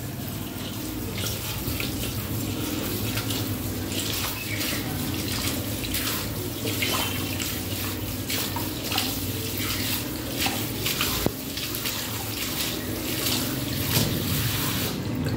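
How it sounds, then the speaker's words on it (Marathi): Chopped chiwar greens are rinsed in a sink under a running tap. The water pours in a continuous, fairly loud stream with shifting splashes and sloshing as the leaves are handled. "आता भाजी चिरून झाली, तिला छान स्वच्छ धुवायची"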